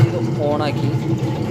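A chapati dough kneading machine, switched on with the dough inside, runs with a steady motor hum beneath a person talking.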